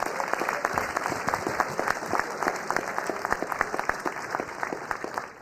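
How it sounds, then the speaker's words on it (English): Steady applause from an audience at a city council meeting, a dense patter of clapping that holds at an even level for several seconds before tapering off at the end. "Please give them a big round of applause."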